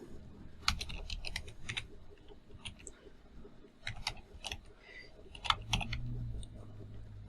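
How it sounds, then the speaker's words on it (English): Computer keyboard being typed on, a quiet close-up run of irregular key clicks in short bursts with brief pauses between groups of keystrokes. "we'll have to type it the old-fashioned way"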